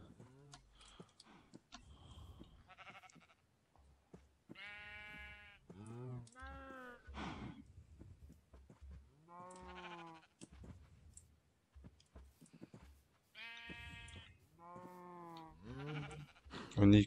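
Sheep bleating in the video game Minecraft FTB Infinity, several separate wavering bleats spread across the stretch, fairly close, with someone talking quietly in between and small clicks.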